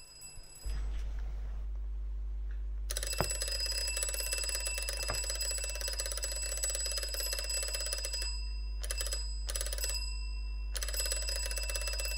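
A homemade electromagnetic doorbell, run from a slightly worn battery, rings close by in a loud, continuous metallic buzz that cuts out briefly twice near the end.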